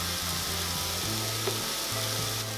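Jerk chicken wings sizzle steadily on a Chefman smokeless indoor grill, a continuous close frying hiss under a low droning hum, with no talking.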